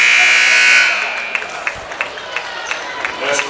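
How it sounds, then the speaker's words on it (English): A basketball game-ending buzzer sounds loud and steady for under a second at a high school boys' tournament, then cuts off into crowd noise with scattered claps and shouts. "Shot at the buzzer."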